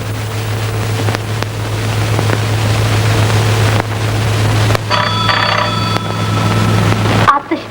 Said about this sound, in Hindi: मैं टेलीफोन सुनकर आती हूँ